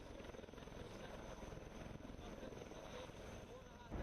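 Army helicopters, Chinook and light helicopters, fly in Ladakh with a continuous whirring, chopping rotor drone at moderate level, a steady throb running unbroken throughout.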